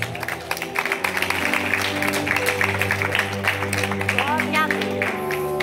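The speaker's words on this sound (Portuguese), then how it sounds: "Aplauda Jesus." A church congregation at a thanksgiving service applauds, a sustained patter of clapping over steady musical tones, with voices audible through it.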